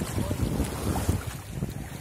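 Sailboat on the water off Phú Quốc, Vietnam, with steady wind buffeting the microphone and low rumbling wash from the hull and waves, continuous and close throughout.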